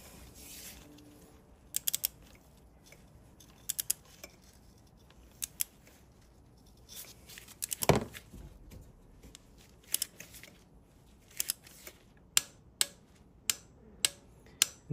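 A torque wrench set to 20 tightens a spark plug on a Toyota Prius, giving faint scattered ratchet clicks that become a steady run of sharp, evenly spaced ticks toward the end, with no talking.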